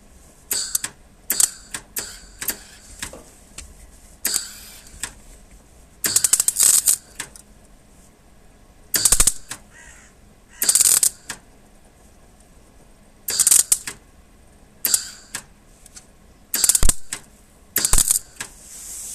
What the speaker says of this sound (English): Just tack it all together like that, so the plate can't go nowhere. That's with a welder.